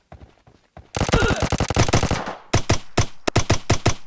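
Automatic gunfire in PUBG Mobile, a few single shots followed by a loud rapid burst and then several short volleys, close and clear with no talking.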